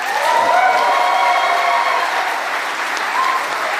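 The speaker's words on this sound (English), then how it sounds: "A wonderful round of applause for His Excellency." Sustained audience applause at the grand opening of the JW Marriott Nairobi hotel in Westlands, a dense, steady wash of clapping with a few cheers, loud and continuous throughout.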